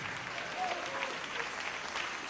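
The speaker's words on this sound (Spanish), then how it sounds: "Dale ese aplauso al Señor." Church congregation applauding during a Spanish-language worship service, a steady, dense wash of clapping that holds evenly through the moment at moderate loudness.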